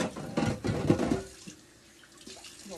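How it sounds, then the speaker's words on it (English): Tap water gushes into a small petite baking pan to soak it after banana bread, a loud splashing fill that stops abruptly partway, leaving a quiet room with faint clinks. "Fill that with some water so it can soak."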